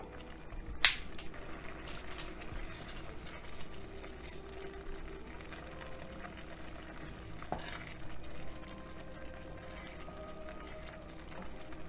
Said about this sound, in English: So we're going to let that simmer lightly.